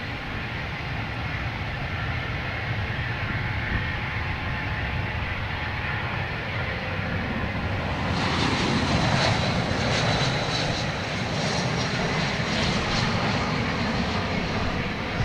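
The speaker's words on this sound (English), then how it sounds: "Get a JetBlue flying over my head from San Juan." A JetBlue airliner flies low overhead at Boston Logan Airport, a loud continuous engine roar that swells and turns harsher with added high whine as it passes nearly above, heard alone without talk.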